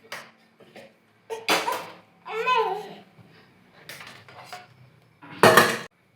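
Metal cooking pot clanks and scrapes in a few short bursts on a gas stove, with soft background voices and a child babbling between the knocks.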